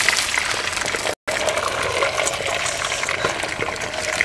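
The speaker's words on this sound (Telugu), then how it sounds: "అందులో కొన్ని వాటర్ పోసి" Water poured into a pot on the stove, a continuous close splashing trickle that briefly cuts out and then resumes.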